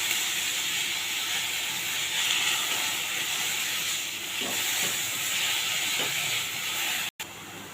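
Chopped vegetables for veg noodles sautéing in a pan over low gas give a steady soft hiss with faint stirring scrapes, heard alone without talk.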